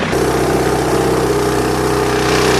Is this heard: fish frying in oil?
no